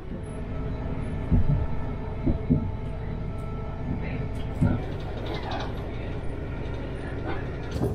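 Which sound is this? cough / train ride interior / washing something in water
train ride interior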